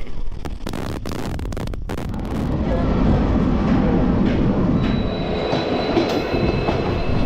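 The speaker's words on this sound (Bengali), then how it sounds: "আমরা যেমন একটা স্পেশাল ট্রেনে যাচ্ছি" A special train to Prayagraj rumbles loudly along the rails, with a steady close roar from inside the carriage and some clattering and faint wheel squeal.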